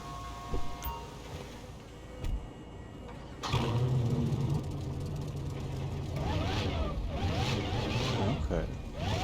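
Hellfire car in GTA 5 fitted with modded real engine audio: a short rev burst, then from about three seconds a loud sustained engine roar with rising pitch sweeps as it accelerates, mixed with game sounds.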